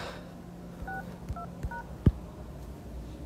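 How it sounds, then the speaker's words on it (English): Phone keypad dialing a code, three short dual-tone beeps in quick succession, each followed by a soft tap, then a sharper click, fairly close in a quiet room. "You have to go to your phone again, dial this code."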